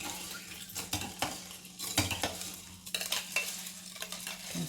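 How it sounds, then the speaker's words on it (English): A spoon stirs a Jamaican carrot juice mixture with strawberries added, giving repeated close clinks and swirling scrapes against the container in an irregular rhythm, with no one talking. "So just mix it together."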